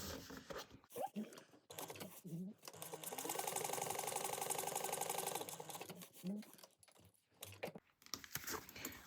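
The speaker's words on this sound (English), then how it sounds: "you're just going to sew around at 3/8 of an inch" A domestic sewing machine stitches a bag pocket at a 3/8 inch seam, running steadily for about three seconds at a close, even whir, with someone talking before and after the run.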